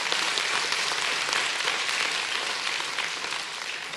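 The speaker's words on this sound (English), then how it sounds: "I think we ought to give the Lord a great big praise clap." A church congregation breaks into loud, steady applause, a dense wash of many hands clapping that fills the room and tapers slightly toward the end.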